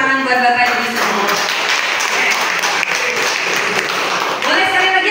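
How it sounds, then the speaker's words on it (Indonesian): Audience applause breaks out at an academic workshop on correlation and regression computation, a dense, steady wash of many hands clapping for about five seconds, with a voice talking over it at the start. "Boleh nggak tepuk tangan buat Bapak Ibu semua?"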